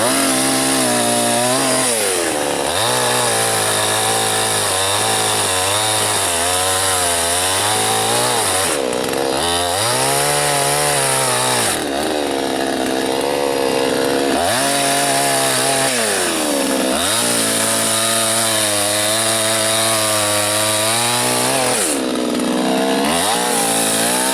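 A chainsaw cuts through a birch tree in the Siberian taiga. The engine roars loud and close without a break, its pitch rising and falling as the blade bites and eases off the wood.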